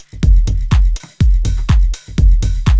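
Tech house drum groove built on a pounding four-on-the-floor kick with a bright open hi-hat ringing on the offbeats, a steady driving loop played alone, loud and close.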